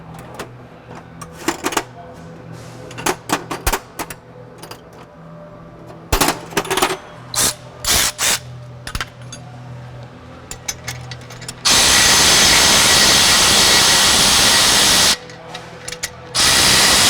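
Exhaust clamp bolts being snugged on a 2018 Maserati Levante V8 during sport cat installation, with quick clicking ratchet turns and tool clatter, then a long loud burst of a power tool near the end.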